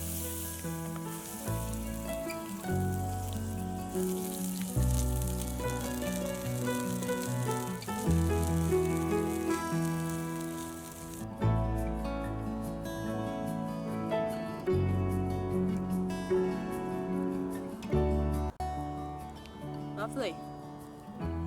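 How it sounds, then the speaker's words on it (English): Steak sizzling over a campfire at a bushcraft woods camp, a continuous close crackling hiss that surges and eases, with a voice talking over it at times. "I've just put the steak on"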